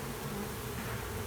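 Honeybees buzz steadily at an open beehive, a close, continuous hum with no talking.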